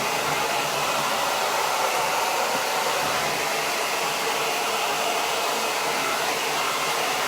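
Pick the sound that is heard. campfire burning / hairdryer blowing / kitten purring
hairdryer blowing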